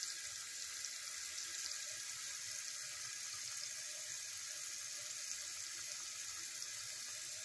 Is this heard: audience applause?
no